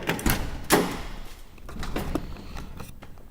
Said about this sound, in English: I'm gonna open up the door.